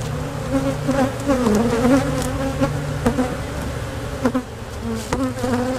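Honeybees swarming around an open hive during hive splitting, a dense close buzzing drone of many wings with shifting pitches and a few louder passes near the microphone, no talking.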